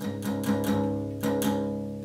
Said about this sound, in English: a muted sound of the strings is created.